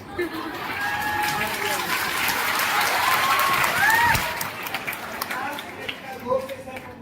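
Applause from a large audience at an annual day event, a broad wash of clapping swelling and then tapering, mixed with crowd noise and a voice speaking over it, fairly distant.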